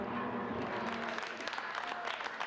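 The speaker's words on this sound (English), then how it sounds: "in the garage, you can see the applause and the delight" Faint, steady clapping and cheering from a race team garage, heard from a distance as a continuous wash of applause with a voice murmuring underneath.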